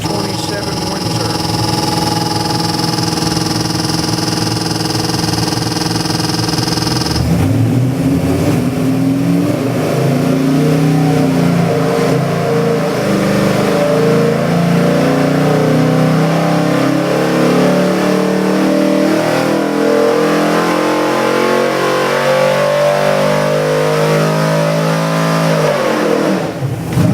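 A 427 cubic inch Windsor-based race engine, built on a 351W block and boost ready, idles steadily, then its note shifts and it revs and holds a loud mid-pitched roar on the dyno for over twenty seconds.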